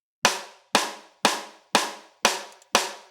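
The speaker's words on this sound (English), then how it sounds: "the click track is like an adjustable metronome track that's easier to hear than GarageBand's built-in metronome" A GarageBand click track ticks six times at an even tempo, with sharp bright percussive clicks that decay quickly, loud and isolated.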